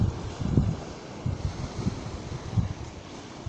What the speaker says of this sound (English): the wind's really kicking up